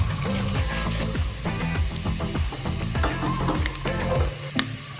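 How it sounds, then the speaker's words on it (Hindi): Nigella, fennel and cumin seeds fry in hot oil for spiced okra, a steady close sizzle with busy crackles and stirring scrapes running through the whole stretch, no voices. "अच्छे से फ्राई करेंगे इन्हें।"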